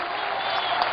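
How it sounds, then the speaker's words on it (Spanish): Congregation applauding Jesus Christ during an evangelical sermon, a brief, steady burst of dense clapping from a large crowd, fairly loud and continuous. "Denle el aplauso a Jesucristo, pero bien grande, bien grande."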